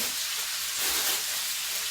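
Fried roux of zasmazhka sizzles steadily in a pan while dumplings are being made, a continuous soft hiss and crackle with no talking.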